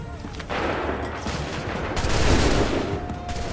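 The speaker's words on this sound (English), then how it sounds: "Make ready! Open fire!" Musket volleys from massed soldiers in Assassin's Creed III fire as a dense, loud wall of overlapping shots, swelling midway and then holding, with shouted commands barely audible beneath.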